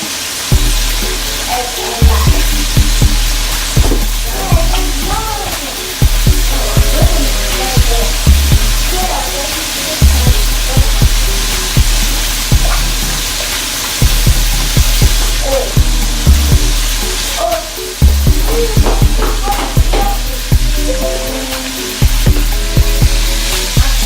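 Chicken frying in grease on high heat gives off a loud, steady hiss and crackle throughout, with a regular low thumping beat running underneath.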